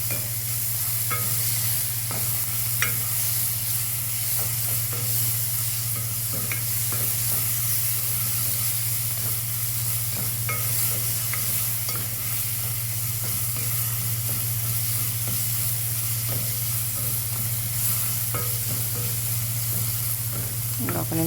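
Spice paste sizzles steadily in hot oil while being stirred for a potato curry, a constant loud frying hiss with faint scraping of the spoon, no talking.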